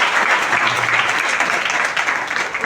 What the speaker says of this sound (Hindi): आप आज जोरदार ताली